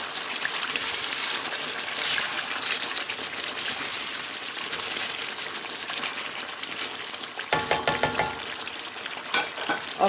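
Chicken frying in a karahi over a medium flame for Chicken Afghani Karahi gives a steady, dense sizzle throughout. Sharper crackles and spattering bursts rise near the end.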